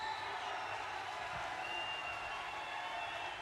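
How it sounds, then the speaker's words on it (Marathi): A large crowd at an outdoor political rally in Dindori, Nashik, for Prime Minister Narendra Modi claps steadily together, a continuous distant wash of applause with no voices standing out. "सगळ्यांनी उभं राहून हात वर करून जोरात टाळ्या वाजवायच्या आहेत"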